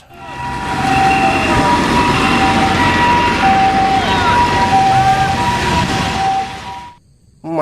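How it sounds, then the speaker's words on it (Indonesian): A toy ambulance blares a loud, steady electronic siren wail with a constant tone, dense rattling noise beneath it, before cutting off abruptly near the end. "Wadidaw, mobil ambulans."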